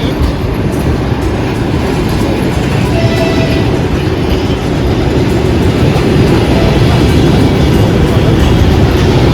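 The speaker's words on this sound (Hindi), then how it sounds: "और ये आ गई हमारी ट्रेन।" A train arrives at Shymkent station in Kazakhstan: a loud, continuous low rumble with faint wheel clatter fills the whole stretch, close by and steady.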